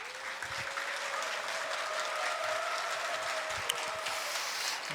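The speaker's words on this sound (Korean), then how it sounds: "앞으로 모실 때 뜨거운 환영의 박수를 부탁드리겠습니다." Sustained applause from a church congregation welcoming a visiting pastor at a Sunday worship service, a dense steady wash of clapping that fills the whole stretch with no voices over it.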